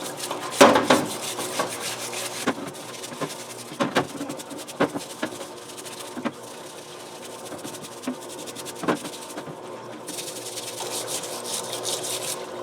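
Parts of a Can-Am Quest 500 ATV are scrubbed with a dollar-store baby bottle cleaner brush, giving close, quiet rubbing and scratchy bristle strokes with intermittent sharper scrapes and taps, with no talking.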